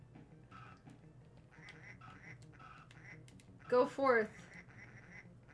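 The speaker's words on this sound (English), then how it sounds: "Wind up duck." Wind-up toy duck quacking in a SEGA Genesis game, a short burst of two loud nasal quacks near the end, rising over low game music and soft talk.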